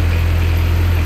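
A 2014 Moffett M55 truck-mounted forklift with a Kubota engine idles with a steady, loud, low hum while its mast tilts, close by and without a break.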